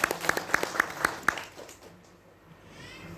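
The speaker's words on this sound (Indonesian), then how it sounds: "Beri tepuk tangan lagi dong, boleh." At a church service, a short run of about seven evenly spaced hand claps sounds close and fairly quiet, then fades into a soft, hollow room tone.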